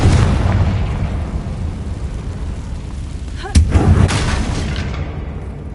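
Confringo spell explosion in Hogwarts Legacy, a loud booming blast within a dense rumbling battle din, with a sharp crack and a second burst partway through.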